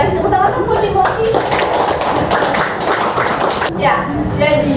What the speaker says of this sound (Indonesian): Kasih tepuk tangan dong buat Timothy